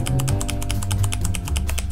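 Computer keyboard keys pressed while playing GTA V, a quick, even run of close, crisp clicking taps over steady game background sound.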